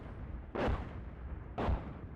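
Two sharp, heavy booms of tank ammunition cooking off in the GHPC tank game, about a second apart, each a sudden loud blast that decays quickly into a quiet rumbling background.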